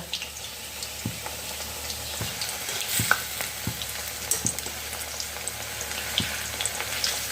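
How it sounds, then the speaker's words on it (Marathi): Cooked colocasia aloo vada deep-frying in hot oil until crispy, a dense steady sizzle and crackle with occasional soft ladle taps, close and unbroken by talk. "फक्त काय करायचं आहे आपल्याला छानपैकी कुरकुरीत तळून घ्यायचे आहे"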